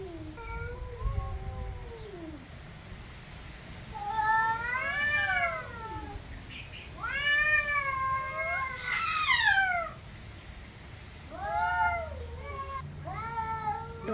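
Two neutered cats trade long, wavering meows and drawn-out caterwauls, several loud howling calls alternating with quieter pauses, close by and with no one talking.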